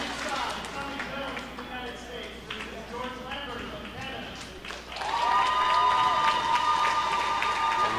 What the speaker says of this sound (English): I hear a big cheer when Puerto Rico's Frankie Colon is introduced.